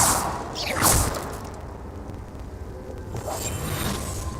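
A fire spell cast in Hogwarts Legacy gives a sharp whooshing sweep that quickly fades, followed by a lower rumbling burn and a softer second flare a few seconds later.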